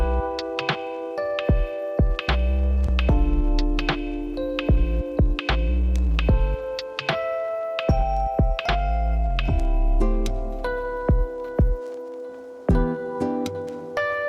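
A sewing machine stitches a fabric tote bag up close, its motor humming and throbbing in bursts that start and stop repeatedly.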